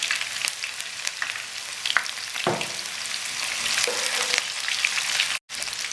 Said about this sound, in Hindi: हम प्याज को ऑयल में फ्राई करेंगे